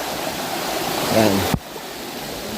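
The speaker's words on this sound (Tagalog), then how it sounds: "Balagbag Falls" Steady broadband rush of Balagbag Falls pouring down, a continuous roar of falling water that cuts off abruptly partway, with a brief voice heard over it.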